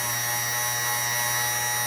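A small power drill whines at a steady high pitch, continuous and close, while boring into a labradorite cabochon.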